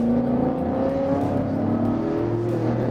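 A Mopar car shifts into third gear around 4,300 RPM and accelerates hard with the tires spinning, its engine a steady loud drone with rising harmonic whine throughout.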